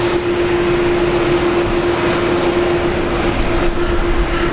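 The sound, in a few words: Qantas aircraft taxiing across at Brisbane Airport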